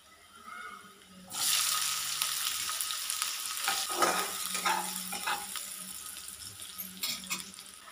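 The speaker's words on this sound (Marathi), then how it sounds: "तर कांदा घालूया आपण।" Chopped onion hits a hot pan of oil while making vegetable upma. After a quiet opening, a loud sizzle bursts in and settles into a steady, close frying hiss broken by a few scraping stirs.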